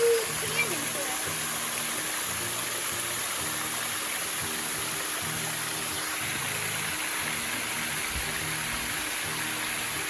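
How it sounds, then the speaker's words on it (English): Graceful Falls, a waterfall pouring like a shower off a rock in a smooth canyon, gives a steady, dense wash of falling water throughout, with people talking over it. "We made it to the waterfall, the Graceful Falls. Like a shower pouring down off that rock."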